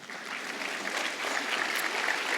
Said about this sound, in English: hopefully we can have a round of applause for the students who are on spring break today